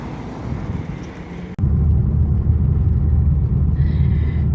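Car on a road on the way home, a loud steady low rumble of engine and tyre noise heard from inside the cabin, continuous after a brief cut, with no talking.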